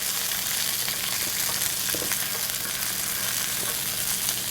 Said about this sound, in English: And again, we're going to stir fry that.